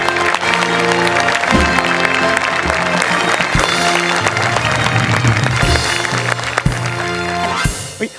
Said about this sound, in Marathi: जोरदार टाळी त्यांचं स्वागत करूया.